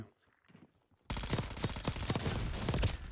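Rapid video-game gunfire from Call of Duty Black Ops 6, starting abruptly after a near-silent moment and continuing as a dense, loud volley of overlapping shots.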